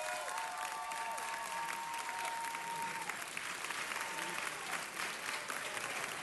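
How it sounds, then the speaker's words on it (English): Steady applause from an audience at a city council meeting honoring high school boys' soccer and basketball teams, a dense, even patter of many hands sustained for several seconds at moderate distance. "Give them a round of applause."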